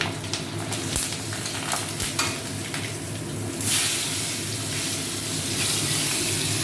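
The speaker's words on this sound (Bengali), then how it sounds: "ফোড়নে দিচ্ছি কালো জিরে আর কাঁচা লঙ্কা" Black cumin (nigella seeds) and green chillies sizzle steadily in hot oil as a tempering for a Bengali koi fish curry, with occasional stirring scrapes. The hiss swells noticeably louder about halfway through.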